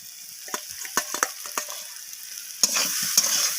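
Fried eggplant and potato being stirred into a spice paste in a pan, soft sizzling under repeated scraping and stirring strokes, close and moderately loud with no talking.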